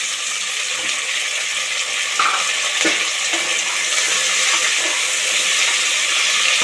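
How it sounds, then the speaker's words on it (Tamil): Chopped tomatoes go into a pan of frying vegetables and green peas for vegetable biryani, giving a steady hiss of sizzling with a few faint clinks of a spoon against the pan. "இப்போ கட் பண்ணி வச்சுருக்க தக்காளி சேர்த்துடலாம்."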